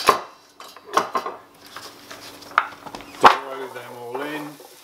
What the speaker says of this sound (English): Throw them all in. Hear it sizzle because it's hot.